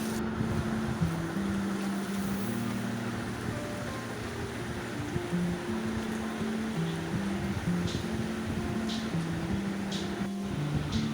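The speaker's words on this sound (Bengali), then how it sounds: "পেঁয়াজটা আমি ব্রাউন করে ভেজে নেব।" Chopped onions fry in soybean oil in a hot wok, giving a steady, even sizzling hiss that carries on without a break, with a soft tonal melody running underneath.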